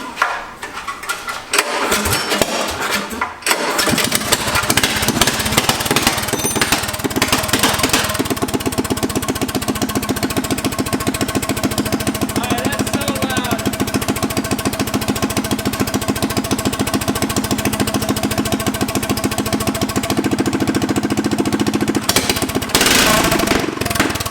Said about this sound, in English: we'll run it a little bit just straight piped because it'll be insane.